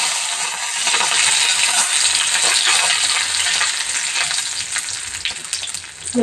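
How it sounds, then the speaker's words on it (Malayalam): Mustard seeds and curry leaves sizzle steadily in hot oil for a Kerala puli inji, a loud, dense crackle with scattered pops that runs throughout, close up and with no talking. "ഇനി നമുക്ക് എണ്ണയിലേക്ക് കടുക് ഇട്ട് കൊടുക്കാം ഇനി ഇച്ചിരി കറിവേപ്പില ഇട്ട് കൊടുക്കാം"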